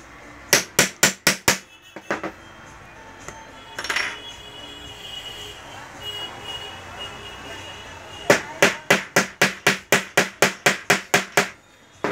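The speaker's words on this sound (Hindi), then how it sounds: "इसको तो पेंच को ठोक दें" Hammer blows drive a screw into the wooden stand of a sewing machine table: a quick burst of sharp, ringing strikes, scattered knocks and rustling, then a long, even run of loud blows close by.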